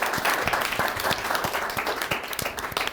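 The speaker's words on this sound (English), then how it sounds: "can we get a round of applause for Fino Taste?" A panel-event audience claps steadily for about three seconds, a dense, even wash of many hands at close range with no voices over it.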